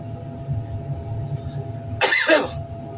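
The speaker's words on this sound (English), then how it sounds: "Sorry about that coughing." A man coughs once, sharply and close up, following a low, steady rumble of background noise, near a scrapyard car crusher.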